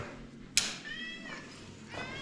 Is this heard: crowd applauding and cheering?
no